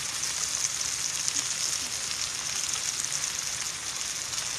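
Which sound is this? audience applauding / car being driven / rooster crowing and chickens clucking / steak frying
steak frying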